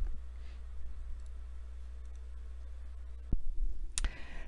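A single computer mouse click near the end, sharp and close, with a second faint click just before it, over a steady low hum and otherwise quiet room.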